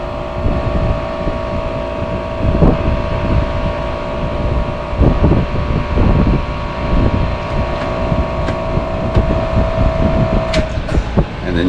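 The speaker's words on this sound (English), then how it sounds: "you can hear that compressor shut off, turn back on. So short cycling there, right?" An A/C compressor that is short cycling hums steadily and mechanically for several seconds, then shuts off near the end, leaving only faint background noise.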